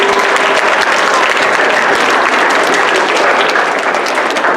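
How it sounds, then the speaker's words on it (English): An audience at a school winter orchestra concert claps loudly and steadily for a few seconds, a dense, continuous wash of applause. "let's give him a round of applause"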